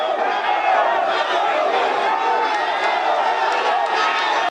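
A large outdoor political rally crowd in Luuka gives off a steady, loud roar of voices and cheering that holds even throughout, then cuts off abruptly at the end.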